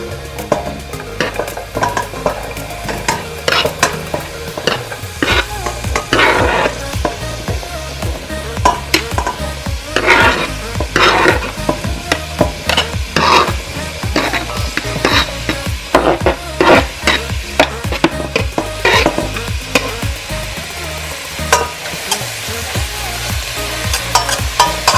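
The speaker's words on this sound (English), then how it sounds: "Now I will add the oil and mid-heat. Add the veggies." Collard greens and other vegetables sizzle in oil in a pan on a stovetop over medium heat, with loud repeated scraping and stirring strokes throughout over a steady frying hiss.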